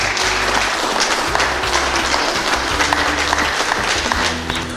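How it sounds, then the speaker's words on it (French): Sustained loud audience applause for an honoured guest at a Cameroonian traditional chiefs' event, dense clapping throughout with a faint murmur of voices underneath. "Que je voudrais vraiment qu'on l'applaudisse."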